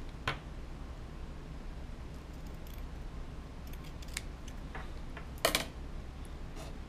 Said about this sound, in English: we're just going to cut off a small little piece.